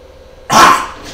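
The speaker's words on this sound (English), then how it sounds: "Oops, I scared the dogs." Dogs let out a sudden loud bark burst near the mic, starting abruptly after a quiet room and trailing off with a brief rough tail.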